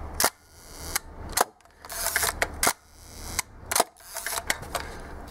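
A Hasselblad camera shutter fires repeatedly at slow speeds, each release a sharp mechanical click followed by a longer whirring wind and a second snap, spaced about a second apart and close up.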